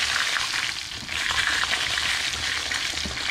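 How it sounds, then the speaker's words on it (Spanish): A guinea pig (cuy) frying in a pan of seasoning for seco de cuy, a continuous close sizzle and bubbling hiss that swells slightly midway, with no voices. "Le vamos a dar una freidita para el gusto nomás."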